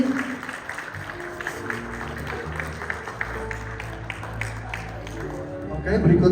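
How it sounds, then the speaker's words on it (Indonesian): Audience clapping for a man at a seminar, a moderate, steady patter of many hands with a low background hum and voices rising near the end. "Kasih tepuk tangan yang meriah buat Pak Yusri."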